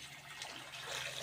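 Water pours into a cooking pot for South Indian tomato rice, a steady close splashing rush that swells slightly toward the end, with no talk.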